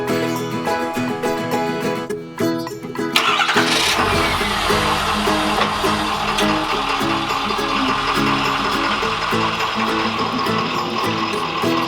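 A Ford Super Duty truck engine cranks and catches around the middle, then settles into a loud steady idle and rolls forward, heard close with no talk.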